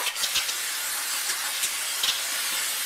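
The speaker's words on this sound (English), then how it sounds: "I'm going to take my condenser spray." A New Blast aerosol condenser coil cleaner sprays onto a condenser coil, a steady close hiss with a few short louder spurts and no talking.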